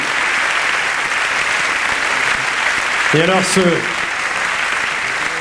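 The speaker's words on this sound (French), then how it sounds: "je voudrais qu'on l'applaudisse" A TV studio audience applauds for Stéphanie Jarre during an evening variety show. The clapping is dense and steady throughout, with a voice speaking briefly over it midway.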